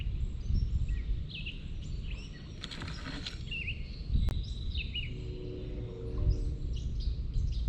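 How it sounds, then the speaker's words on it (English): Birds chirp and sing in short, scattered calls over steady outdoor ambience near water on a trail, with a faint insect-like buzz partway through; the calls are moderately distant and no one speaks. "I love to just listen to the birds."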